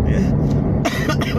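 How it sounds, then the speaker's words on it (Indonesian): A man gives a couple of short, loud coughs close to the microphone, harsh bursts coming in the latter half over a low background hum. "Batuk."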